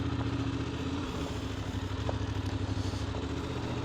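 A Voge DS900X adventure motorcycle rides in road mode, its engine droning steadily at a constant pace with a low throbbing hum and rushing wind, close and loud throughout.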